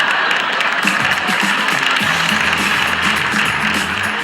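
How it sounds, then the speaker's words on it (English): Applause from a group fills the space, an even wash of clapping held at a steady level, with a few low murmurs or tones rising faintly beneath it toward the end. "Thank you for that warm round of applause."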